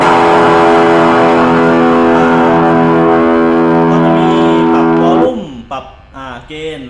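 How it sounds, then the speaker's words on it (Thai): A loud, heavily distorted electric guitar tone from a JOYO MA-10E amp's built-in distortion holds steady for several seconds, then cuts out and gives way to softer, broken sounds. "ก็จะเหมาะกับกีตาร์ไฟฟ้านะครับเพราะว่ามีเอฟเฟกเสียงแตกในตัวนะผม"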